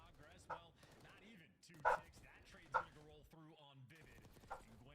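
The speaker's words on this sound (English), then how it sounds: "Sorry, my dogs are barking." Several dogs barking indoors in short bursts, a few sharp barks spread across the moment, heard under continuous talk from a person commentating a Call of Duty esports match.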